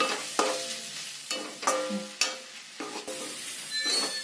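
Kashmiri chilli powder and turmeric sizzle in a hot kadai as a spoon stirs them, giving sharp scraping strokes roughly every half second over a steady frying hiss, close and alone.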